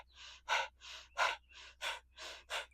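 A steady rhythm of forceful yoga breaths pumped from the belly, alternating softer inhales with sharper, louder exhales, about eight breaths in quick succession, faint and close, with no talking.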